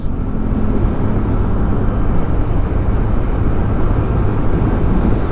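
A steady, droning motorcycle engine hum with a throttle-body sound runs without pause, loud and close, a constant low rumble with no distinct revs or voices.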